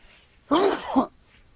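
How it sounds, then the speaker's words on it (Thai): A man gives a single close, forceful sneeze with a short intake and an explosive burst, followed by quiet. "ขอโทษนะผมจะจาม"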